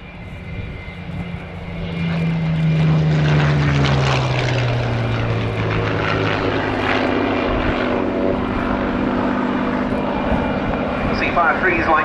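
A Supermarine Seafire Mark III propeller aircraft roars past at an air display with a loud, swelling engine drone that holds steady, while a commentator talks over it.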